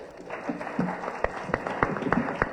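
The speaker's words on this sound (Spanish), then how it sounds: "Vamos a recibir con un aplauso a Erwin Macario." Steady applause from a crowd at a book presentation, with a few sharper claps standing out over a continuous wash of clapping.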